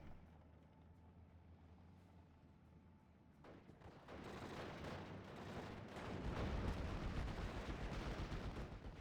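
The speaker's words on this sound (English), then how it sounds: "75 rockets still remain on that Vielverschwerfer" Nebelwerfer rocket artillery in Steel Division Normandy 44 fires and booms faintly and at a distance, starting after a quiet hum, then swelling into a dense, rolling roar of launches and impacts, with no talk.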